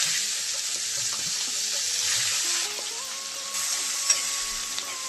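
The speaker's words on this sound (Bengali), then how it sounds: "পেঁয়াজটাকে নাড়িয়ে চেড়ে ভেজে নিচ্ছি।" Chopped onion frying with a bay leaf in hot mustard oil, a loud, continuous bright sizzle with soft scrapes of stirring now and then, no talking.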